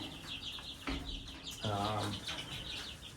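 Chickens cluck and chirp close by, with a short burst of louder squawking partway through, over a low background hum.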